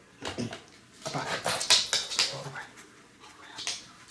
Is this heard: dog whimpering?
yes